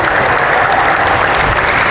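A church congregation claps together in a dense, steady burst of applause that fills the room, loud and continuous.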